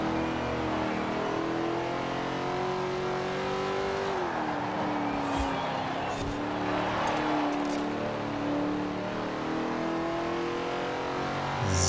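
A rear-wheel-drive pony or muscle car in Forza Horizon 4 holds a steady engine drone, shifts pitch around the middle and brushes with a faint tire squeal, loud and close throughout.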